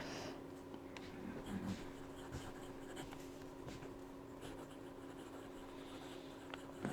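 A fountain pen scratches softly across paper in faint, intermittent strokes, with quiet room noise around it.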